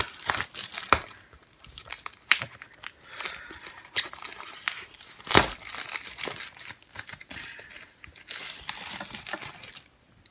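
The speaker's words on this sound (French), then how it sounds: "Alors du coup je vais déjà enlever le film plastique." Plastic shrink film peeled and torn off the box of a new graphics tablet, a close, busy run of crinkling and crackling with sharp bursts, continuing for about ten seconds without talk.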